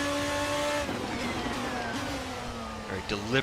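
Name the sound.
Formula RSS 2 race car braking and downshifting in racing sim video game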